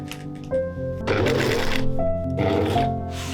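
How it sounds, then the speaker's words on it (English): A sewing machine stitching fabric pieces for a mannequin cover, a close, steady mechanical whir that starts, pauses and runs again in short runs. "I could sew it together and add it to the cover"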